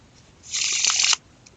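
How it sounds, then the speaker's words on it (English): A single quick riffle of playing cards being shuffled, crisp and close, lasting under a second amid quiet. "I am going to go ahead and shuffle this pack of cards."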